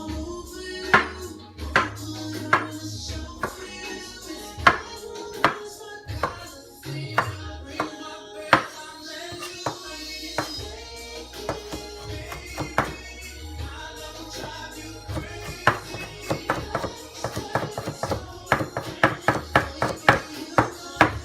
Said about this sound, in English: We're going to chop it up and get rid of some of the liquid.